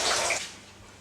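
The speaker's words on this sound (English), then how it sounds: "I'm going to fill this up with regular cold water and then pour it in the bucket" Cold tap water gushes into a bucket during tie-dye preparation: a brief, bright splashing pour that quickly fades to a quieter trickle and stillness.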